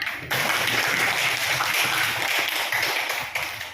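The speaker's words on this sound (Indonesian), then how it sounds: "Tepuk tangan dulu, Nak." Classroom students clap together in a brief burst of steady applause, fairly close and loud, lasting a few seconds before tapering off.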